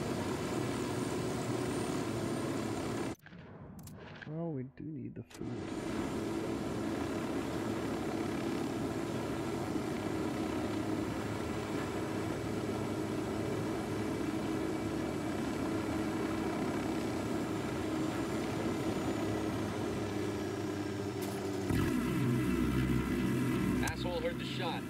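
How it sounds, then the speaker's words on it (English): Helicopter in the game Ghost Recon Wildlands, with a steady rotor and engine drone filling the scene from start to finish, a brief dropout near the beginning, and someone talking over it. "Steal the helicopter."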